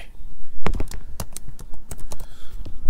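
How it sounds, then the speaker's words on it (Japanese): Typing on a computer keyboard while entering details into an online account form: scattered sharp key taps at an uneven pace, close and fairly loud, with no talking. "シフトボタンを押しながら、 えー、Y って、Y とかね、 キーボードを押すと大文字になります"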